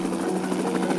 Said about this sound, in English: The Big Cypress was one of the first National Park Service units to own a helicopter in the lower 48.